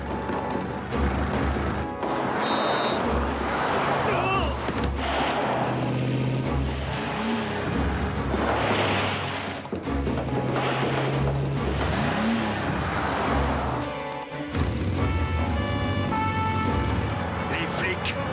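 A cartoon postal van driven flat out at full throttle during a chase, its engine roaring loud and continuous for the whole stretch amid car-racing and skidding effects, with voices talking over it.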